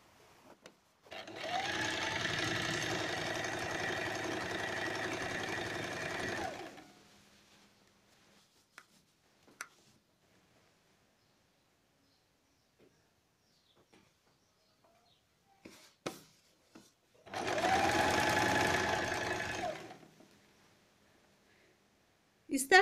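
A sewing machine stitches elastic-waist trousers in two long, fast, even bursts, close and fairly loud, separated by a quiet pause filled with faint handling clicks and fabric rustle.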